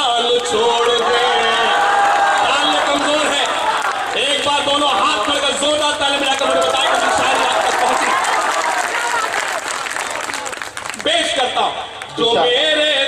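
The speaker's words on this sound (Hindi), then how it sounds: "एक बार दोनों हाथ मिलकर जोरदार तालियां" A large crowd claps and cheers loudly and steadily at a patriotic rally, with whoops rising over the dense applause, which thins toward the end.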